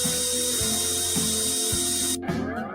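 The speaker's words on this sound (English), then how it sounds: "So now we need to bolt this down and then figure out the steering." A power tool bolts down parts of a 450cc Amish buggy, whirring in short pulses near the mic for a few seconds before stopping abruptly.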